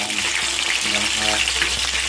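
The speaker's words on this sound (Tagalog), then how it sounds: "So i-prito natin, i-fry natin para mamula-mula siya." Previously cooked chicken pieces fry in hot oil for a chicken kabsa, giving a loud, steady, close sizzle with faint stirring and no talk.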